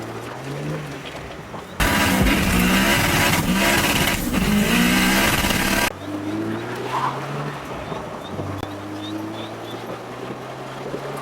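A car engine, heard from inside while the car is driven, rises and falls through gear changes. A loud burst of rushing wind noise covers the middle stretch, and steady engine droning continues on either side of it.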